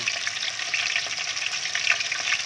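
Pork with garlic sizzles and crackles steadily as it fries in a hot pan, a continuous hiss with small pops, close by and without talk.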